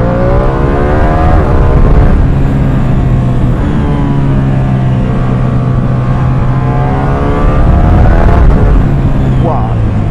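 A Ducati Streetfighter V2 motorcycle engine revs loud and close, its pitch rising and falling through gear changes with a quickshifter. It sounds like a continuous, throaty roar.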